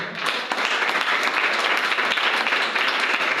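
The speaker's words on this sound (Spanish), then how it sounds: "Dar un aplauso al Señor." A church congregation applauds together in a steady, dense wash of clapping that carries on throughout.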